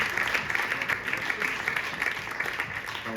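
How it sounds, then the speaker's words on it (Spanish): Audience applause at a talk on the painter Eduardo Rosales in a Madrid cultural centre, a dense, steady patter of clapping hands sustained for a few seconds. "No, yo creo que hay que aplaudirle."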